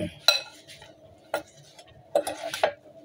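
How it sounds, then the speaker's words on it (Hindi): Sprouted salad being mixed with amchur powder and red chilli in a bowl: a few separate clinks and scrapes of a spoon against the dish, fairly quiet, with no one speaking. "इसे अच्छी तरह से मिक्स कर लेंगे।"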